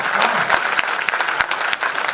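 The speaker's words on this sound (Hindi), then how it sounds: "तालियां एक बार उठाइए" Audience applause at a Hindi comedy poetry gathering (kavi sammelan), a dense, steady wash of many hands clapping close and loud throughout, with a few sharper individual claps standing out.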